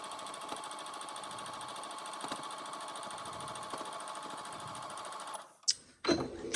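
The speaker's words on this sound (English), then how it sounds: "But let's sew all this down." A sewing machine stitches fabric scraps together for a crumb quilt, running in a steady fast whir for about five seconds before stopping, followed by a few soft handling clicks and rustles.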